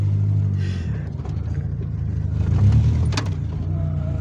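A car engine runs steadily with a low, continuous rumble, started with the foot held on the clutch, while faint voices and a brief whirring motor sound drift in over the idle.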